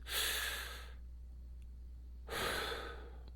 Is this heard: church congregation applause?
no